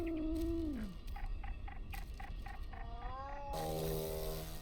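Cat meows and purring-like calls in the video game Baby Steps, a series of tonal, bending cries with short repeated chirps in between, fairly faint and heard alone.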